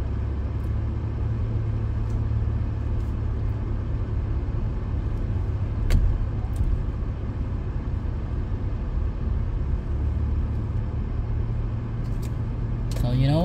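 A car driving through Hempstead, New York, near the train and bus stations, heard from inside as a steady low engine and road rumble with a few faint clicks and no break.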